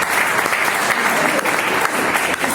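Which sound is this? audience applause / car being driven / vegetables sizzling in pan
audience applause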